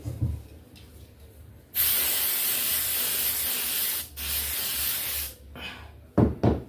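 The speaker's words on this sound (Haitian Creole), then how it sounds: "Et puis, on flite." Rhinobond activator sprayed onto a screen-printing screen: two long, loud, steady hissing bursts, the first about two and a half seconds, the second shorter after a brief gap, then a couple of quick spritzes.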